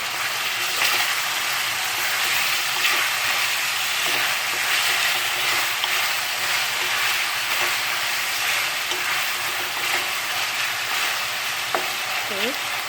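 A pot of chicken arroz caldo rice porridge with black pepper is stirred over the heat, with a continuous loud sizzling and bubbling hiss and soft scraping throughout.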